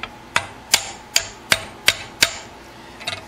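A banjolin part clamped in a vise is struck six times at an even pace with sharp, close taps, then a faint cluster of small knocks follows at the end.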